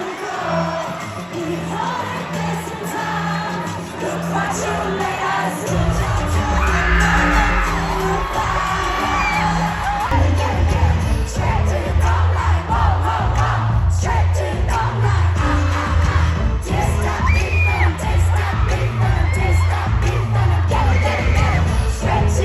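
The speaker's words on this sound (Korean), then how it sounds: "프랑스 사람들의 함성 소리와 도입부 떼창, 환호하는 모습은 온라인상으로 보는 것만으로도 소름이 끼치는데요." A French audience roars and sings along at a gala show, a loud, sustained crowd cheer with yells and whoops layered over heavy, booming stage music.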